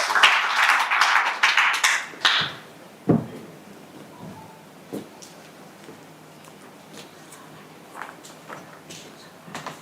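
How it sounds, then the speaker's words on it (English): A room of guests at an Agri-Africa exhibition breakfast applauds Ambassador Demeke Aknafu. A burst of clapping in the first couple of seconds dies away into a quiet hall with occasional knocks and shuffles. "Let's round of applause for Demeke Aknafu"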